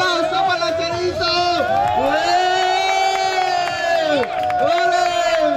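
Crowd at a soapbox car race in La Floresta, cheering and shouting in loud bursts with whoops over a continuous roar of voices, close and sustained.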